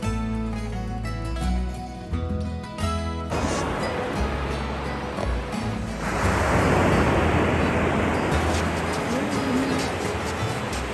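Ocean surf washing onto a shore on a road trip stop, a broad roaring wash of waves that swells louder partway through, following a stretch of music at the start.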